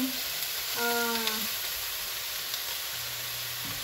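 Mushrooms and broccoli sautéing in a pan for ginisang mushroom, giving a steady low sizzle and hiss throughout, with a brief tonal clink or hum partway and no talking.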